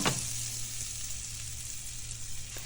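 Butter melting in a flat pan over medium heat, a continuous bright crackling sizzle, close and even throughout, with no talking.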